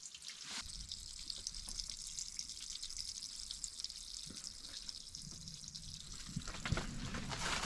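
Water dripping and trickling from a freshly glued pipe joint, a faint, steady wash of small splashes that runs the whole time with no talk.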